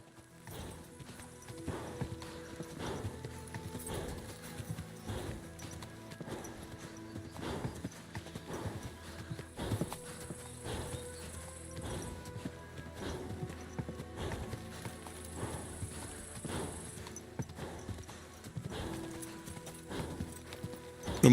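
A stolen horse's hooves clop steadily through a field in Kingdom Come: Deliverance II, a close, even walking rhythm that continues for the whole stretch with faint game ambience behind it.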